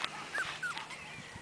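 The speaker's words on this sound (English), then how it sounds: "We're taking a video of Rosie and Zebby's puppies. They're 4 weeks old here." Four-week-old Goldendoodle puppies whimper and yip outdoors on their first day outside, with several short high whines and squeaks scattered close by, fairly faint, with no talking.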